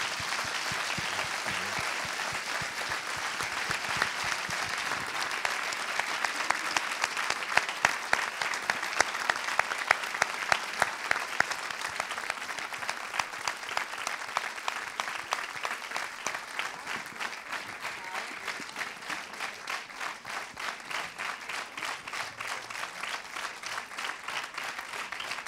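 Sustained audience applause at the close of a French-language talk, steady and dense from a moderate distance, swelling slightly in the middle before settling into a looser, more rhythmic clapping toward the end.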